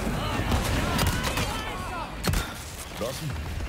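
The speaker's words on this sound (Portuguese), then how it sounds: "esse tiro aqui foi bom" Several sharp gunshots crack amid continuous battle noise in Resident Evil 4 Remake, with one prominent loud shot near the middle and someone talking over the action.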